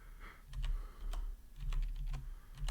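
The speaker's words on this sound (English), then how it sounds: "Don't mind my mechanical keyboard." Rapid, uneven keystrokes on a mechanical keyboard, close and crisp in short bursts with brief pauses, over a low background rumble and no speech.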